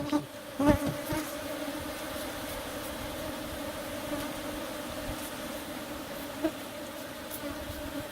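Dense, steady buzzing of agitated African honeybees (Apis scutellata) swarming around an opened hive during a beekeeping session, a continuous drone with a couple of brief louder bumps and no talking.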